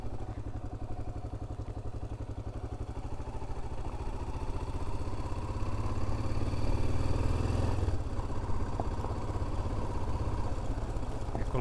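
1988 Yamaha Ténéré motorcycle engine running steadily in the Amazon forest, a close, rough mid-pitched drone with clattering mechanical detail, slightly rising and swelling around the middle before settling back to an even idle-like throb.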